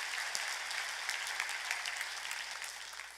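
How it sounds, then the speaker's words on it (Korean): Church congregation clapping during a sermon, a continuous fairly distant wash of applause sustained throughout with no speech over it. "얘기를 들은 사람만 박수"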